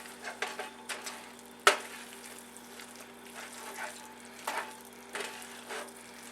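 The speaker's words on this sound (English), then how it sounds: "So now mix all this together, very carefully if your saute pan's not very large." Green beans, onions and sour cream are stirred in a small sauté pan, giving soft scraping swishes and a few sharp spoon clinks against the pan, close and fairly quiet with no talk.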